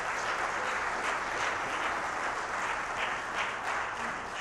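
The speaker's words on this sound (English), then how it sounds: "Come back up and give Andrew an applause." Steady, full applause from a seated audience for Andrew, clapping that holds at an even level with no voices over it.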